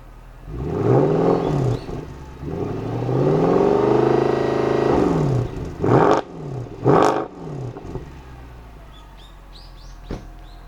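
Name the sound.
2010 Mercedes-Benz C63 AMG stock exhaust revving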